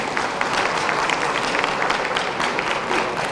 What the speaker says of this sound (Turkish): alkışlayalım seni.